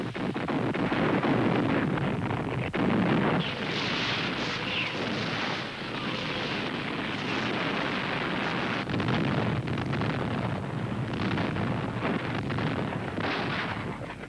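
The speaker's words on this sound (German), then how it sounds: "Mit 5000 Kanonen und Raketenwerfern beschießen die Sowjets die deutschen Stellungen." Soviet artillery and rocket launchers pound German positions with thousands of guns, a dense continuous roar of blasts and rumbling that stays loud throughout, with no voices.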